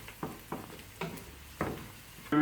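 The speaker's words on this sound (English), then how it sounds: "you just stir the onion" Chopped onion for paella is stirred in a frying pan, with a handful of short scraping strokes spaced irregularly over a low, faint sizzle, then a brief brighter clatter at the end.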